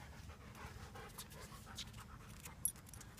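A big, powerful Rottweiler pants steadily nearby in quick, even breaths at low volume, with a small jingle near the end.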